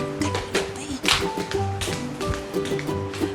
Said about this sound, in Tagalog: May kumakatok kanina pa.